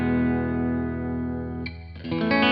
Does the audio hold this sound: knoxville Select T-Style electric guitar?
yes